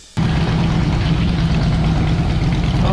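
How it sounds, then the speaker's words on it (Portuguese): A motorcycle engine runs steadily close by, with a deep, rumbling low-frequency idle and a constant drone that starts abruptly and holds unbroken throughout, with no talking. "Andando com a moto do Junão"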